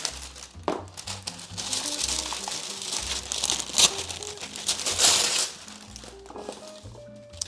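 Non-stick greaseproof paper being crinkled and scrunched by hand, loud, close, irregular rustling and crackling bursts that keep going throughout, with no talk over them.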